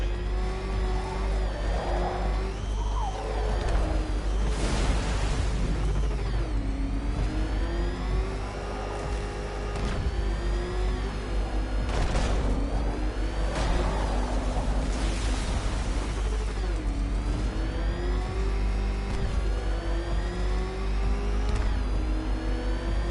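A car engine in a Batman video game roars loud and continuous, revving up and down through repeated rising and falling gear sweeps across the whole stretch, with no talk.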